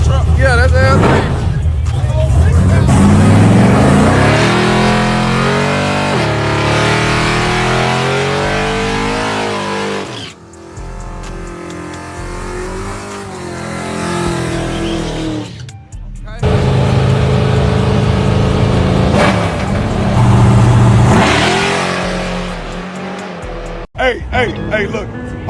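Race trucks at a drag-style event roar past with engines revving and accelerating, loud sustained engine noise in long surges with brief gaps, while someone talks over it.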